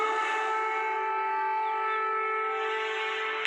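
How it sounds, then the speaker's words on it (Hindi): Air raid sirens in Kyiv during the Russia-Ukraine war hold one long, steady tone for several seconds, droning loudly with rich overtones and no talking. "कीव में रह रहकर बजते सायरन ऐलान कर रहे हैं"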